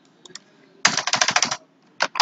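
Router configuration commands typed on a computer keyboard: a fast close burst of crisp key clicks, a pause, then a couple more taps, with faint scattered clicks before, no talk.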